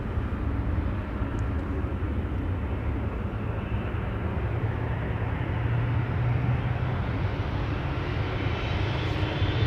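KLM Boeing 777-300 departing Amsterdam Schiphol Airport on flight 515 to Zanzibar, a steady broadband jet engine roar that holds loud and constant throughout, swelling slightly toward the end with no talk.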